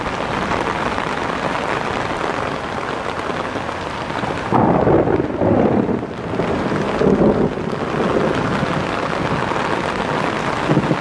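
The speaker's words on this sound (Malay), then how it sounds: "jadi kebetulan hari tengah hujan" Heavy rain falling outdoors during a thunderstorm, a constant loud wash with wind buffeting the microphone, and low rumbles of thunder swelling in the middle.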